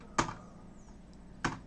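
Two sharp keystrokes on a computer keyboard, the Enter key pressed with a clear click near the start and another just before the end, close and alone over faint room noise.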